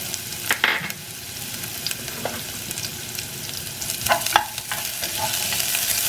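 Spinach being tempered in a hot pan with cumin seeds, onion, dried red chillies and garlic, sizzling and frying steadily with a few stirring scrapes and clinks, close by and without speech.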